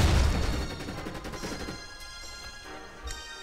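Glass smashing under a hammer in a video game, a loud crashing burst up front that trails off into scattered tinkling debris, with a small sharp knock near the end.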